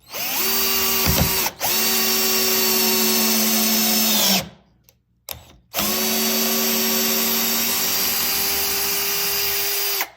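A Topshak TS-ED3 20-volt cordless drill/driver drives a screw in two long, steady spins at close range, its motor droning under load, with a brief pause and clicks between.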